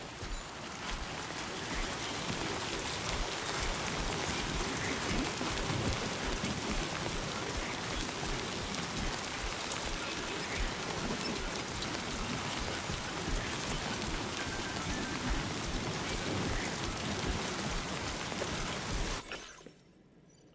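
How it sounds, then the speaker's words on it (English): Heavy timefall rain in the Death Stranding video game pours in a dense, continuous hiss, steady throughout before cutting off abruptly near the end. "Looks like the timefall's been pretty relentless."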